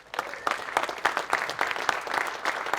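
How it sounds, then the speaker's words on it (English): Guests at an entrepreneurs' fly-in event give steady applause for a team, with moderately loud, continuous clapping from a room of people. "Big round of applause for the Apex team."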